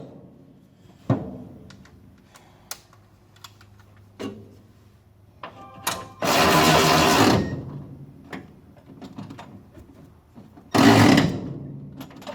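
Power tool straining to drive a fastener the rest of the way without enough torque: scattered clicks and taps, then two loud bursts of whirring motor noise, the first longer than the second.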